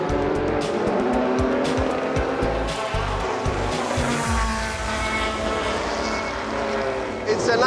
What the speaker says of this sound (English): Here is another jewel on the track, a 1982 Porsche 956C with an impressive track record.